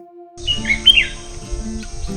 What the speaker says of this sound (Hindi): अगर आप सुन पा रहे हैं तो ये बुलबुल बोल रही है।